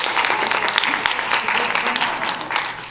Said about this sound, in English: round of applause for everybody here